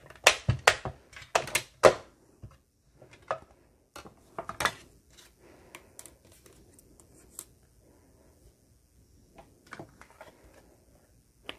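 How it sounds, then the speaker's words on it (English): A mini die cutting machine runs Stylish Shapes dies through, producing a series of sharp mechanical clicks and clacks, dense at first, then sparser, with quiet gaps between them. "bringing in my little mini machine since we what we're die cutting's not big"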